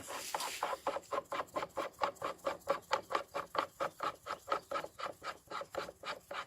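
A coin ring press is screwed down onto a franc coin. A steady run of rhythmic ratcheting clicks repeats evenly throughout, close by and fairly quiet.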